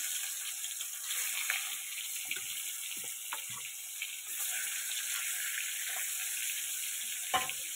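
Fish sizzling in hot oil in a wok, a steady dense crackle of frying held at a moderate level throughout with occasional louder pops and clatter, no voices.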